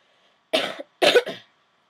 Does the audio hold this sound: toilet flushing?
no